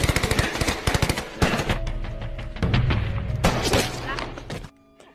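Machine guns rattle in a film battle between soldiers in a Papua jungle, with rapid bursts of shots, heavy thuds and booms layered densely, then a pause and a final flurry before it cuts to near silence.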